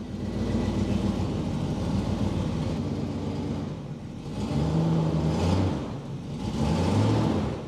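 An old Chevrolet C10 Squarebody shortbed pickup engine revs up and down in uneven surges, loud and close, with rough low rumbling between the bursts and no voices; the truck has no working brakes or transmission.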